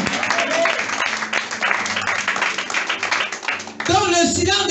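A church congregation at a French-language worship service claps and cheers together in steady, loud applause, which swells again near the end.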